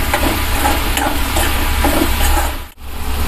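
Tomatoes with ginger garlic paste sautéing in a pan for a sambar, a steady close sizzle with faint stirring scrapes, briefly dipping near the end.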